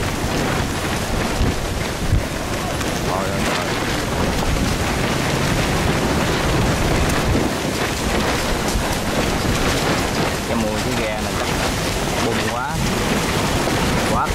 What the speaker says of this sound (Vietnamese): Đi trong bờ mà nó gió cỡ này các bạn.